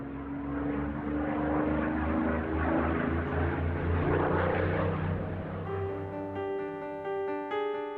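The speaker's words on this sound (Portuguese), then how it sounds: "o mais rápido bombardeiro da Segunda Guerra, o Mosquito" A de Havilland Mosquito, a WWII twin-propeller bomber, passing with a strong droning engine hum and steady propeller tones, loud and sustained before fading toward the end, alone without talking.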